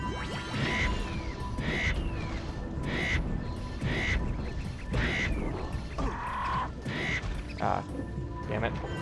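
A chicken-like bird in the Jak and Daxter video game squawks in short bursts roughly once a second, over steady game background noise, while someone talks.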